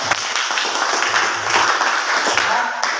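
A class or audience gives a round of applause after a question is asked. The clapping is loud and continuous for the whole stretch, with a low hum and faint voices mixed in beneath it.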